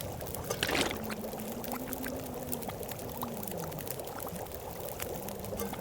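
Water pouring in The Long Dark survival game, a faint, continuous stream-like wash that holds steady at low volume throughout.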